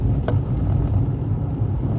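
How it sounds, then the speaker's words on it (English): A car driving along a road, a steady low engine and road rumble that fills the whole stretch at close range, loud and unbroken, with no talk over it. "I'm already driving"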